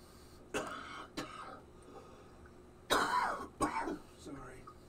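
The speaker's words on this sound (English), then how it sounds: "Got this cough, though. Can't seem to shake it." A person with a lingering cough coughs and clears their throat in a quiet workshop while working with epoxy, about five sharp, close bursts with short gaps between them.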